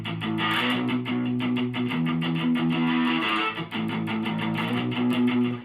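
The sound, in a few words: distorted electric guitar playing a riff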